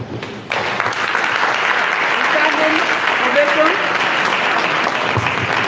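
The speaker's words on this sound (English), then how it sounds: "A standing ovation for the Provost, Professor Jonathan J. Atiku. A round of applause for him, please." A matriculation ceremony audience gives a standing ovation to the Provost, loud continuous applause starting abruptly after a short pause and holding steady throughout, with a voice briefly heard over it.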